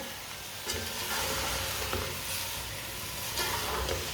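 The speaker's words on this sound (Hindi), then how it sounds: "बरीक कटी हुई पालक, आप देखें पालक मैंने फ्रेश वाली ली है, पालक डाल लेंगे। अच्छी तरह मिक्स कर लेंगे।" Freshly chopped spinach hits a hot pan for aloo palak and is stirred, giving a steady broadband sizzle with a few scraping stirs, close and moderate in level, with no talk.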